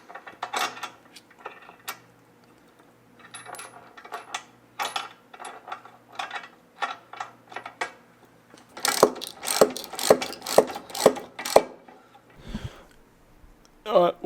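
Ratchet tightening galvanized 3/8 bolts with washers into T-nuts on a waterwheel microhydro powertrain subframe, rapid clicking pawl bursts repeated in short runs, close and clear, building to a louder busier stretch near the end.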